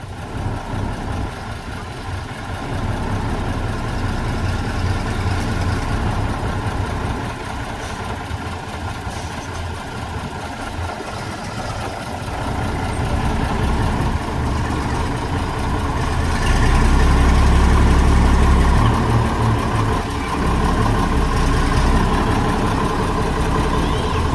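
A truck engine idles while the truck backs into a narrow parking space, a steady low rumble that swells louder near the end, close by with no talk.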